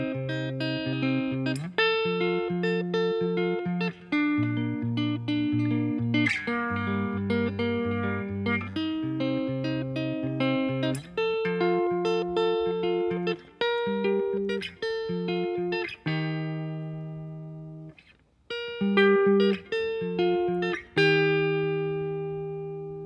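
Acoustic guitar fingerpicking a song, a steady run of plucked chords and melody notes played solo with no voice, close and even in loudness, with a brief pause near the end.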